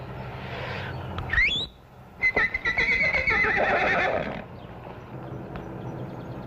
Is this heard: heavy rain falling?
no